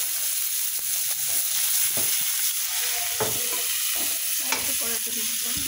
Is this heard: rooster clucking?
no